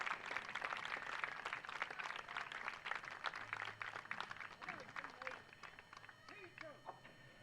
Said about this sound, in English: Let's give these young men another round of applause.